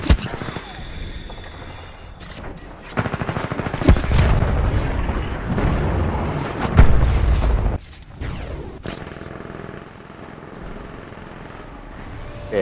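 Gunfire in an Attack on Titan video game, bursts of rapid shots and booms of varying loudness with short gaps between, heard alongside players talking.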